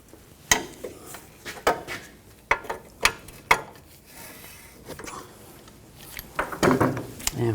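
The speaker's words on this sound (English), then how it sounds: "I'm going to take the caliper bracket bolts out. Use a 17mm socket." Metal clicks and clanks of a 17mm socket on a ratchet working loose the caliper bracket bolts on a 2003-2008 Subaru Forester during a front brake job, sharp irregular taps and short ratcheting bursts, close by with no talk.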